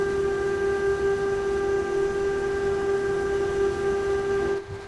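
A BR185.5 electric locomotive hauls MRCE freight in Train Sim World 5, its traction motors singing a steady, loud multi-toned whine over a low rolling rumble that cuts off near the end.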